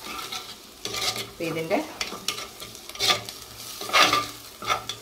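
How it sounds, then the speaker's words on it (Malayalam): A spoon stirs turmeric into a dried fish and plantain curry in a pan, giving repeated scraping, shuffling strokes over a light sizzle, close and moderately loud, with a brief spoken word. "ഇത് രണ്ടും ചേർത്ത് ഒന്നും കൂടെ ഒന്ന് മിക്സ് ചെയ്യാം"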